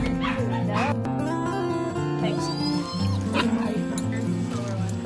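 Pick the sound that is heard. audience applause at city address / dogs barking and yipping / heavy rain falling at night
dogs barking and yipping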